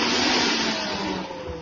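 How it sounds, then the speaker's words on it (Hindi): A kitchen mixer grinder whirs loudly and steadily at home, close by, its motor noise filling the clip before easing slightly toward the end. "मिक्सी चलाओ।"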